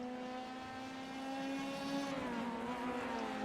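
Formula racing car engine from a video game race at Spa in Belgium, a sustained high whine with rich harmonics that dips and rises through gear changes and corners, steady and close with no talk.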